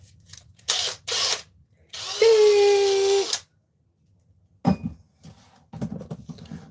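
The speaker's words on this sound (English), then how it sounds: "That's right, Finn got power tools now" A power tool whirs in short bursts indoors, with a longer high-pitched motor run in the middle and mechanical clicks and rattles between, heard close and fairly loud with no talk over it.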